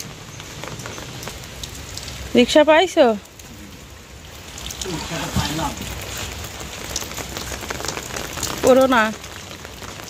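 Light rain falls with a steady soft hiss on a slippery road, while people speak briefly over it in short bursts.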